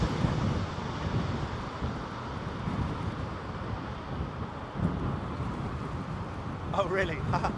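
Strong gusting wind during Storm Henk at Heathrow airport, a steady loud roar of wind buffeting the microphone throughout, with a few faint tonal whines near the end.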